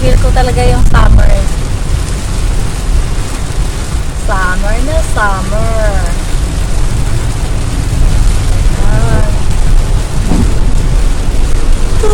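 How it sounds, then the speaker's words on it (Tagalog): Steady broadband downpour of summer rain with low rumbling that fits distant thunder, continuous and loud throughout, with voices talking over it and faint birdlike chirps mid-clip. "strong summer, summer rain."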